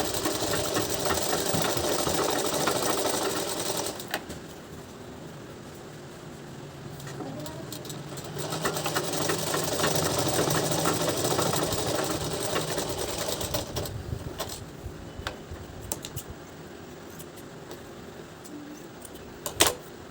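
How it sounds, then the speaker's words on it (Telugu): A regular sewing machine with its motor removed stitches cloth, giving a steady mechanical whirr that runs in long stretches, slows, then picks up again, with some quiet talk around it. "ఇప్పుడు నా నేను మామూలు మిషన్తో కుడుతున్నాను రన్నింగ్ మిషన్తో"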